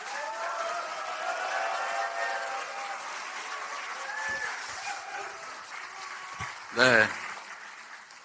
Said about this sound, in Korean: 힘내시라고 큰 박수 보내주시기 바랍니다